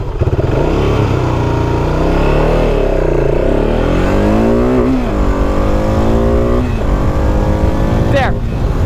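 A BMW motorcycle accelerates hard from a standstill toward 60 mph, its engine loud and close and rising through several gear shifts, with wind roar throughout.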